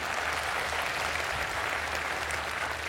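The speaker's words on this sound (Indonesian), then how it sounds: "kasih tepuk tangan dong untuk ibu" Studio audience on an Indonesian talk show applauds a mother, steady dense clapping filling the whole stretch at an even, moderately loud level with no break.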